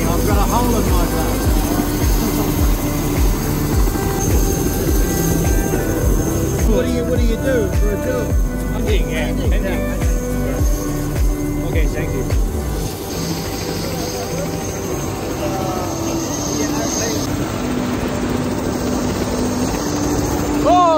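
A helicopter flies over the snow-covered Southern Alps near Queenstown, New Zealand, with a steady close rotor and engine drone throughout, partly masked by loud background music.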